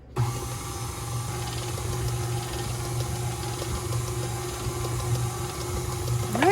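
An electric mixer churns flour into vegan gingerbread cookie dough with a steady mechanical whir and hum, running continuously and close by with no talking.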